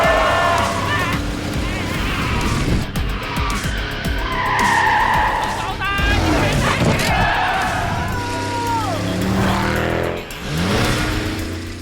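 A Wuling car skids across an extreme track, with loud, continuous engine and tire noise swelling and dipping. Voices shout and talk over it.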